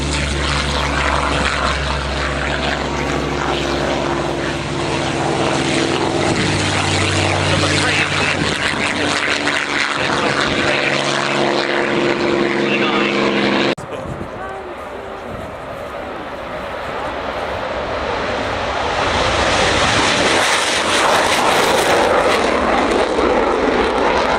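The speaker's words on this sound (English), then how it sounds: "And then comes HAC's Hurricane 12." Hawker Hurricane Mk XII propeller fighter flying a display at an air show, a loud sustained engine drone with a shift midway as it passes, likely under announcer talk.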